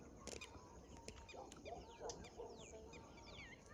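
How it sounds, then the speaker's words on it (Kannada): Birds calling outdoors around sunset near a hill, several chirps and sweeping whistles plus clucking fowl, faint and distant over a low background hush, no talking. "ಎಷ್ಟು ಚಂದ ಅಗರ್ಕ ಪಕ್ಷಿಗಳು ಸೌಂಡ್"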